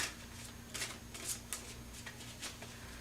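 Tarot cards are shuffled by hand up close, giving soft, quick riffling bursts in an irregular rhythm against a quiet room, with no talking.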